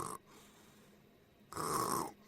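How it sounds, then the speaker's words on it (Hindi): A person snores indoors, two loud rasping snores separated by a quiet pause, close and fairly faint overall. "खर्राटा मारे हो।"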